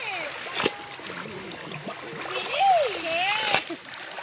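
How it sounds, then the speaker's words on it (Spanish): A phone drops into a river with a short splash, and another splash follows a few seconds later, while a person talks nearby. "me cae el teléfono al agua."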